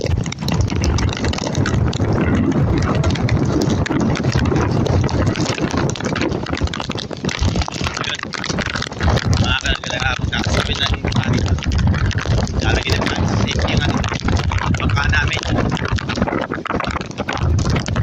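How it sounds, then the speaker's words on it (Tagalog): Strong typhoon wind roars continuously, buffeting the microphone with heavy, gusty noise and a rushing, watery texture throughout. "Grabe, lakas ang hangin."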